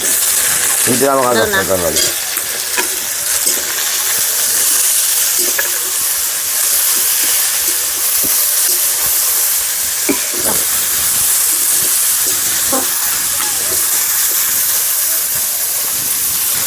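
Chopped chilli and onion sizzle and hiss steadily in a hot pan with cumin and dried chilli, a loud continuous frying sound filling the whole stretch, with a few brief clinks and no talking.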